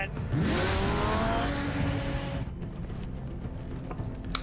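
A car revving and accelerating while being driven in Batman: The Telltale Series, the engine rising in pitch and then tailing off, with a tire squeal, loud and close, and brief speech underneath.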